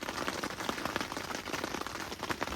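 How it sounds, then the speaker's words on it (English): Rain falling steadily on a campsite during a thunderstorm, a dense patter of drops on surfaces with crackling texture, close and continuous at moderate level, no voices. "Get a little ASMR of this fire in the rainstorm."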